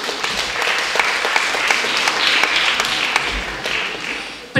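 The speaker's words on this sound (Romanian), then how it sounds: "dar aplaudăm oricum" Steady audience applause in a hall at a school award ceremony, many hands clapping at moderate loudness for several seconds with a few sharper claps standing out, ending on a brief thump.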